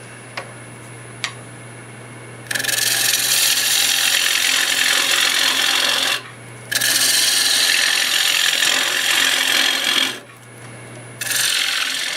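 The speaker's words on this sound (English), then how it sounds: "Let's start out with a 5/8 bowl gouge, and we will" A 5/8 bowl gouge cuts wood spinning on a lathe while turning a multi-axis square bowl, giving a loud, steady rasping hiss in long stretches broken by brief pauses over the constant motor hum.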